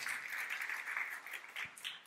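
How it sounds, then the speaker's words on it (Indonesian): A church congregation applauds in a continuous, fairly soft patter of many hands clapping, with no talk over it. "Beri tepuk tangan buat Tuhan, saudara."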